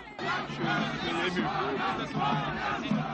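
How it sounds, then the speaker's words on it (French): A crowd in Timbuktu, Mali, cheers French President François Hollande, a dense roar of many shouting voices that stays loud and close throughout and swells in waves. "La population soumise pendant plus de 10 mois à la charia par les islamistes est venue acclamer le président français"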